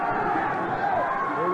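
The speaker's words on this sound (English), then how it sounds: "The crowd is really alive for this one" Crowd at a 1995 Sanshou kung fu event in New York City, a loud, steady roar of cheering and shouting voices filling the hall.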